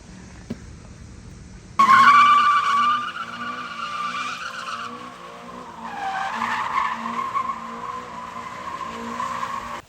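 Sports car with newly studded tires spinning through a smoky burnout: a sudden loud screech of tire squeal erupts and holds, the engine droning underneath, then wavers and surges again without fading.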